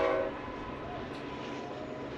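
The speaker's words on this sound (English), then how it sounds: "Train passing in the background." Train rumbling past in the background at a baseball game, a steady low rolling noise with a brief fading horn tone at the start.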